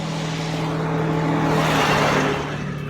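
Military trucks drive past in the Chernobyl Exclusion Zone with a loud, steady engine drone and rumble swelling slightly as they pass, close by with no speech.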